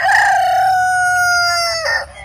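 A rooster on a small farm crows once, a loud close drawn-out call ending in a falling note, with no talk.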